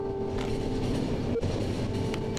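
A train rides along in the video game The Final Station, with steady rumbling wheels, rhythmic clatter and a sustained metallic hum, heard continuously at moderate volume.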